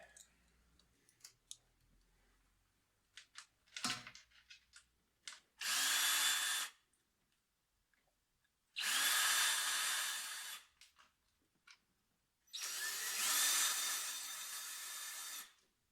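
A power tool with a 10mm socket spins out valve cover bolts on a BMW N42/N46 engine: three loud whirring runs of a few seconds each, separated by quiet pauses with faint clicks and handling noises.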